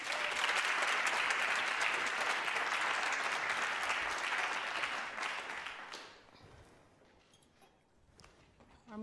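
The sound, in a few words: audience applause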